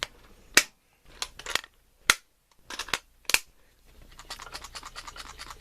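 A padded fire-starting kit box shaken by hand: a few sharp clicks and knocks in separate bursts, then a softer steady rustling shuffle toward the end, close and fairly quiet with no voices.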